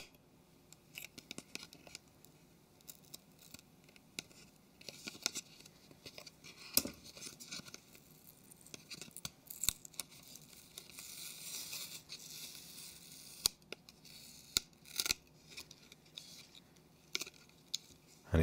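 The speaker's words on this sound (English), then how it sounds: "lift this away from the case. very strong double-sided tape holding this on." Plastic case of a Nokia Lumia 720 phone being pried away from strong double-sided tape, giving quiet, scattered crackling, ticking and peeling sounds over about eighteen seconds with no voices.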